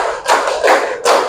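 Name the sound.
children clapping hands in counted rhythm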